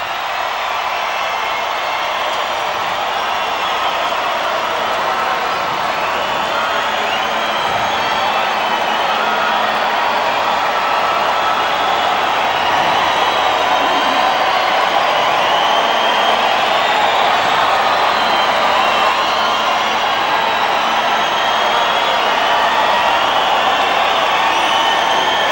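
Boxing arena crowd waiting for Roy Jones Jr. to enter for his fight with Tony Thornton: a loud, continuous roar of many voices that stays steady and fills the space without letting up.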